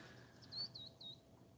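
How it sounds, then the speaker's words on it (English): A raven calls a few times at a distance in a quiet outdoor garden-like spot near a trail, with short faint cries over a low background hush. "That was a raven."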